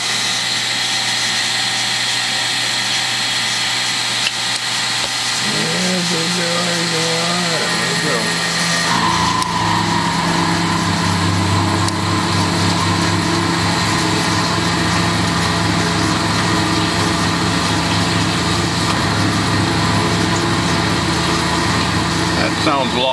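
A milling machine spins at about 1750 RPM as a 3/8 roughing end mill takes a cut 3/8 deep and 3/8 wide at 5 inches per minute, a steady loud whine and chatter that rises as the cut begins, with someone talking over it.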